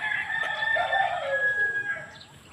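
A rooster crows once nearby, a long drawn-out call that rises and then trails away, with faint background noise.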